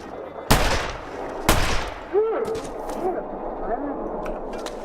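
Two sharp, loud rifle shots crack about a second apart in The Long Dark survival game, each followed by a decaying echo, then a lower rumble and faint whooshing ambience under a quiet backdrop.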